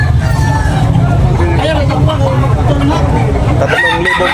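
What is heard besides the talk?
rooster crowing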